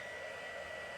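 An embossing heat tool blows hot air in a steady, close broadband whoosh that holds constant throughout, with no speech.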